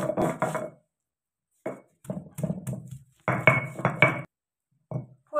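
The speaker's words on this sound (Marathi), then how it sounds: "आता आपण पाट्यावरती फोडणीचं साहित्य बारीक करून घेणार आहे." Garlic, ginger, coriander and a pinch of salt are ground on a stone slab in bursts of rhythmic scraping and knocking strokes, close and fairly loud, broken by short pauses.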